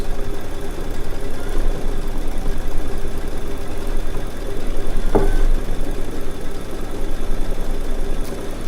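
A Baby Lock sewing machine stitches an edge-to-edge quilting design, a steady close mechanical hum and rapid needle chatter running throughout with one brief sharper click midway.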